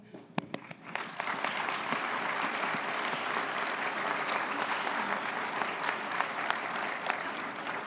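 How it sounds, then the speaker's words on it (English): A banquet audience at a Chamber of Commerce awards night in Fairfield, Iowa applauds the winners and sponsors, with a few scattered claps building into sustained, dense clapping that fills the room. "Let's have another warm round of applause for the winners, the sponsors, and well, just all of you"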